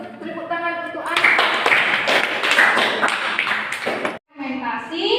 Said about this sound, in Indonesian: Ya, bagus. Tepuk tangan untuk Anda.